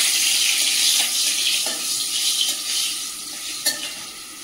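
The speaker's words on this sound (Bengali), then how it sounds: "এদিকে শাক ভাজাটা চাপানোর জন্য কড়াই তেল দিয়ে দিয়েছি। দিয়ে দেবো শুকনো লঙ্কা" Oil heating in a wok before greens and dried chilli go in makes a loud, continuous sizzling hiss. A few soft clicks and scrapes sit over it, with no talking.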